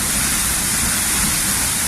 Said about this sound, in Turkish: Yukarıdan dökülen müthiş bir su uğultusu.